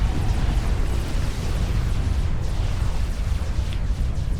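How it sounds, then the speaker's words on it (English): An explosion rolls through a large-scale battle in Supreme Commander: Forged Alliance, a continuous heavy rumble that stays loud and dense for several seconds. There is no clear pause, and no voices are heard. "this explosion is going to see to the fire beaters and something else"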